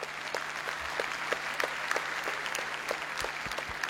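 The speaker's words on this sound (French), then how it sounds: "j'aimerais que vous les applaudissiez très fort" Applause from a large audience at a gathering, honoring some 200 young volunteers who helped run the event; dense, steady clapping at moderate distance fills the whole stretch without pause, and no one speaks over it.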